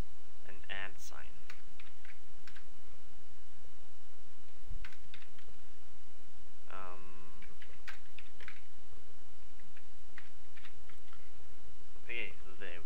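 Bursts of computer keyboard typing while code is edited, quick clicky keystrokes in short runs separated by pauses, close and moderately loud over a steady background hiss.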